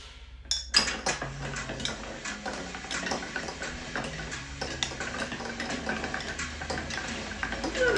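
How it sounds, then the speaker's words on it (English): Two Sazerac cocktails stirred at once with metal bar spoons in mixing glasses, a close, quiet run of clinking and light scraping ice sounds with no talk. "So I'm going to try to stir both of these simultaneously."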